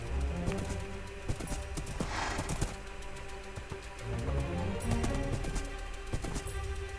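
Horse hooves clip-clop in a Minecraft survival game, a steady run of soft game-sound footfalls over continuous background music and ambience, mid-level and without speech.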